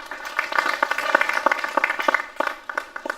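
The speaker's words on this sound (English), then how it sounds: "Can we clap for him?" Audience at a funeral conference in Kenya claps for a guest speaker, a moderately loud patter of many hands with distinct sharp claps standing out, steady for a few seconds.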